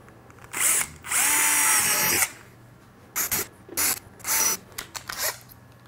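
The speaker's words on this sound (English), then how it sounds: "Using the small or 3mm drill, what you need to do is just create a pilot hole in the center of each of these four" A small 3mm drill bores pilot holes into a helmet, sounding as several whining bursts: two long runs near the start, then shorter stop-start spurts, close and clear, with no speech.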